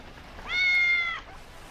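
One clear, drawn-out cat meow in a French Puss in Boots fairy-tale telling, close and moderately loud over a quiet background.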